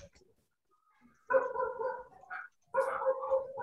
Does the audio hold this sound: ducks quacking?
no